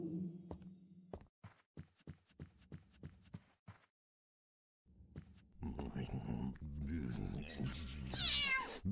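A cat meows in a string of short, evenly spaced cries, followed after a pause by game music and a voice.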